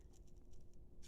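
Scissors snip through a fabric sack being shaped into a cat ear beanie, a quick series of close, crisp cuts in a short burst.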